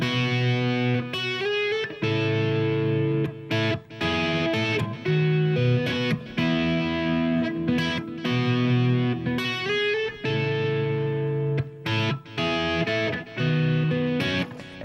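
Distorted, effects-heavy guitar playing a tune, full chords and rhythmic riffs with short choppy breaks and a low bass undertone, loud and continuous with no speech.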